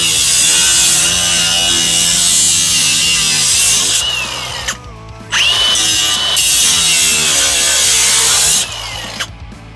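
An angle grinder cuts metal on a Subaru Forester being fitted with a Ford 9-inch rear end, a loud, steady high-pitched whine with grinding hiss, briefly dropping in pitch mid-cut before resuming and winding down at the end.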